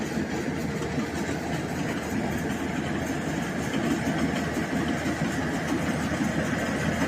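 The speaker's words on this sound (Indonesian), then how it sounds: "alangkah bagusnya kita menyabit padinya dengan mesin seperti ini" A rice paddy harvesting machine's engine drones steadily in a wide rice field, a constant low rumbling hum at moderate distance with no speech.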